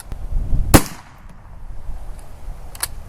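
A single sharp, loud rifle shot from a Carcano firing heavy 160-grain bullets cracks out once near the start, followed by a faint second report and quiet outdoor ambience.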